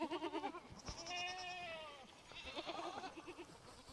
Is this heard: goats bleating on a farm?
yes